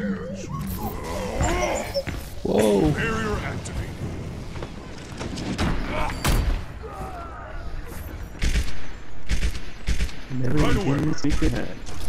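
Gunfire from a Bastion turret in Overwatch rattles in repeated bursts beneath near, continuous conversation, with crackling impacts scattered throughout.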